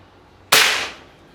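A single sharp, loud crack of a big-game PCP air rifle shot, with a brief decaying tail, alone against quiet background.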